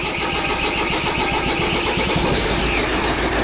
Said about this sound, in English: Alright, so the vehicle has a hard start.